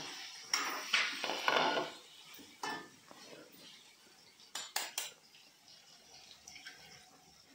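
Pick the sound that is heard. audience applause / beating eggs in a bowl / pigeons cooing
beating eggs in a bowl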